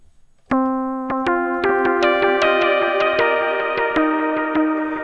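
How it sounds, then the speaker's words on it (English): A bright Virus TI synth lead plays a rising run of plucked notes through a delay effect, each one echoing and repeating behind the next, with no voices. "so I dial in some delay from the color copy from Yuhi."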